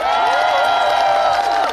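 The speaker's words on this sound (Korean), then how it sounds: "감독님들께 한번 박수 한번 드릴까요" A festival crowd at the Geumcheon Harmony Festival gives applause for the stage directors during a live concert, a steady wash of clapping and cheering layered under sustained music tones throughout.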